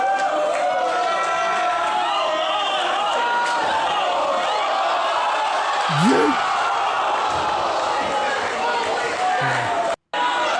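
Dense wrestling crowd noise, many voices blending into a loud continuous roar with overlapping chatter and cheering, a few voices standing out briefly near the middle, a brief dropout near the end.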